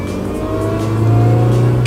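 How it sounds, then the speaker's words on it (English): A MINI revs hard with a rising supercharger whine layered over the engine drone, loud and close from inside the car, the pitch climbing steadily with no talking. "you gotta love that supercharger whine"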